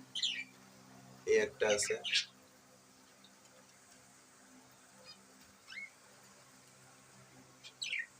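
Several short chirps from pet budgerigars kept at home, with a couple of bursts near the start and isolated calls later, mixed with a few brief spoken words.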